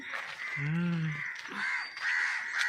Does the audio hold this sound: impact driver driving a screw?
no